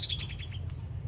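A young decoy bird, still molting and skittish, gives a quick series of high chirps during a bird-trapping outing, the repeated notes clustered in the first half second over a steady low hum.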